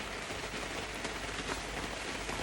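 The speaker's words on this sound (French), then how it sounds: "comme t'entends, il pleut vachement" Heavy rain falling outdoors, a dense continuous wash of close drops pattering on surfaces with no pauses, loud and steady throughout.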